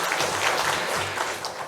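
A church congregation claps together during a Korean Sunday worship service, a short, even burst of applause with no speech over it.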